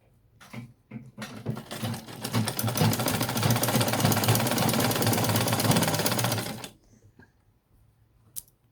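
An electric sewing machine stitching an elastic band into ankara fabric for cargo pants, a rapid close mechanical rattle that starts in short bursts, runs continuously for several seconds, then stops, followed by a few faint clicks.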